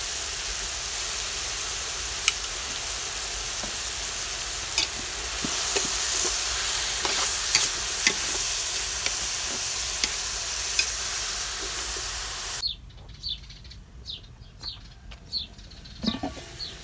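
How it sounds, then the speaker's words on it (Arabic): Onion and chicken with warm spices such as cinnamon and turmeric sauté in a pot for a Moroccan chicken and almond bastilla, giving a steady loud sizzle with scattered stirring scrapes; the sizzle drops sharply near the end, leaving quieter clinks and stirs. "هاي المرقه كتشحر دابا البصله مع الدجاج العطريه"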